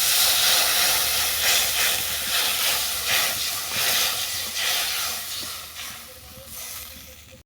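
Water poured onto a fried spice mixture in a pan hisses and steams loudly at first, a broad rushing sizzle that slowly settles and fades, no voices.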